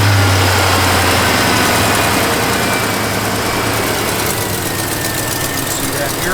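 A 1968 Chevrolet C10 pickup with headers idles in a steady, loud, low rumble that holds throughout.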